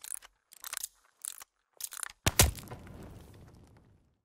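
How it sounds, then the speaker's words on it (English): Bomb defusal in a hardcore search-and-destroy round of a first-person shooter: several short clicking, mechanical bursts, then a sharp loud crunch with a decaying metallic ring, no voices. "Defusing the bomb now."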